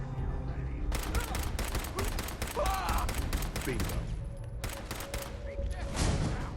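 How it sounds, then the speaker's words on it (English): Exploding bullets fired from a gun in Fallout 4, a rapid series of loud, sharp cracks in several bursts with brief pauses between them, over steady game ambience. "I'm literally shooting you with exploding bullets"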